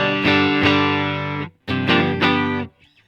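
An electric guitar played through a Strymon Iridium amp and cab simulator with the room reverb turned off, two loud, dry, slightly driven chords ringing out, then a brief gap before two more.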